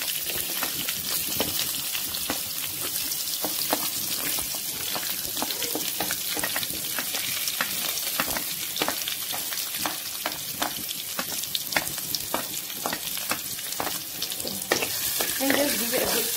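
Onion fries in a pan with whole peppercorns and fennel seeds for a Malaysian-style vegetable kurma, sizzling steadily and close while a utensil stirs with repeated scraping clicks.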